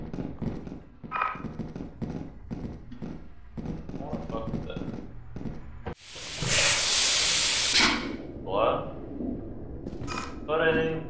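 A steam valve in the video game Lethal Company bursts into a loud, broad hiss lasting about two seconds, then smaller hissing puffs, following footsteps and thuds while players talk over the game.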